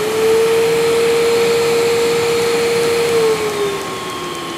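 The blower turbine of a BainUltra air tub runs with a steady loud whirring hum and a strong tonal whine that holds, then dips slightly near the end.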